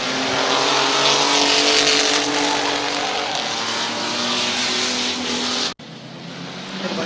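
Race trucks roar around a turn at Midvale Speedway, a dense continuous engine drone filling the clip, loud and close, cutting off abruptly near the end.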